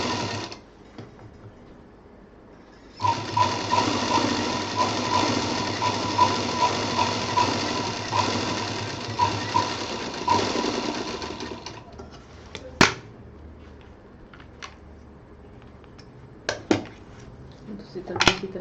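A sewing machine runs steadily for about nine seconds, stitching a fine second line along the edge of a fashionable DIY bag seam, then stops. Scattered handling clicks and taps follow.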